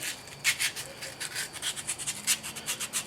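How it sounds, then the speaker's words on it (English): Hand-filing rough edges off a metal drill guide in a shop, a quick series of rhythmic rasping strokes, close and fairly loud, with no talk. "just take any rough edges off"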